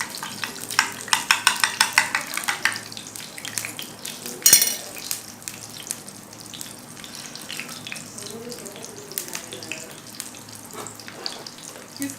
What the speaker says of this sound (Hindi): इसकी साइड को हम गोल्डन फ्राई होने तक इसको पकाएंगे और इसकी साइडें हम चेंज करते रहेंगे।